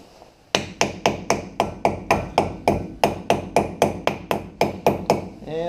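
A dust cap hammered onto a 1970 Chevy Camaro brake hub: about fifteen sharp, ringing metallic taps in a steady, even rhythm, loud and close, each blow decaying briefly before the next.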